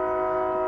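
A train in an urban neighborhood sounds a steady, sustained horn that holds its tone, loud and close, throughout the short moment.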